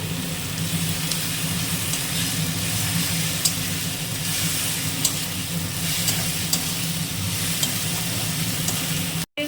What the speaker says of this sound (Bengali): এবার এই দুটোকে ভালো করে মিশিয়ে নিতে হবে একটু ভেজে ভেজে নিতে হবে একটু লঙ্কা গুঁড়ো লঙ্কা বাটা দেওয়া হচ্ছে